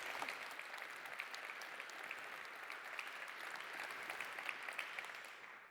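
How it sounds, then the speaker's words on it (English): Steady applause from a conference keynote audience thanking two workshop facilitators, dense continuous clapping at an even level throughout with no talking over it. "Please join me in a round of applause to thank Tony James from Target and Shane Hamilton from Toast"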